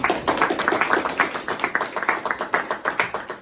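A small audience claps after a classroom presentation, a quick, fairly even run of sharp hand claps nearby that continues throughout without talk.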